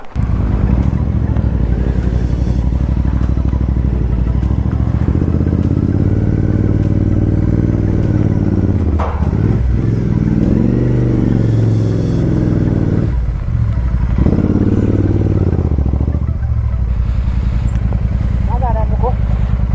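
A motorcycle engine drones steadily and loudly during a ride near Nako, with a low rumble and occasional surges in revs while people talk over it.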